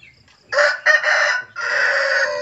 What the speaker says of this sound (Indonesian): Ayam babon kluruk.